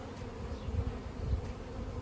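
Honeybees hum in a low, steady drone at an open eight-frame hive box being requeened, with a soft, continuous buzz and no voices.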